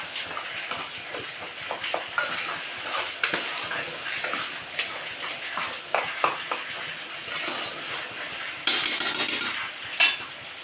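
Onions, tomatoes and green chilies sauté in a hot pan for a Sunday mutton dish, giving a steady sizzle broken by frequent scraping and stirring strokes with a few louder spatula clatters.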